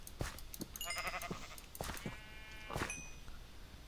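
Several short, nasal bleats from a sheep in a video game, with a few higher synthetic game tones layered in, moderately loud over a low steady background.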